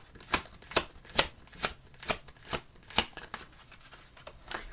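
A deck of angel cards is shuffled by hand, giving about a dozen crisp riffling snaps in an even rhythm, close and clear with no voices.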